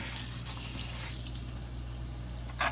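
A nail tech's brush is lathered with hand or dish soap and rinsed under a running tap, giving a steady, close wash of water hiss with a brief louder splash at the end.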